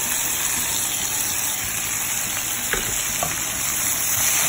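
Meat, tomato and onion sizzle and fry in a pan, a steady hissing crackle with a few louder pops and stirring sounds, no talking.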